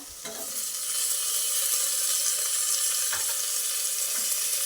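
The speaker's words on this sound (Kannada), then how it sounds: "ಇದು ಸ್ವಲ್ಪ ಚೆನ್ನಾಗಿ ಫ್ರೈ ಆಗಲಿ" Onion and tomato frying in a pan for bisi bele bath, a steady bright sizzle with occasional stirring knocks, close and continuous with no talking.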